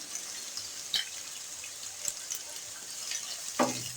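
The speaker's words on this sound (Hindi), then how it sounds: "ये मैं प्याज के साथ ही फ्राई करूंगी।" Sliced onions and four medium green chilies fry in oil, giving a soft, steady sizzle with a few scattered clinks and stirring knocks against the pan.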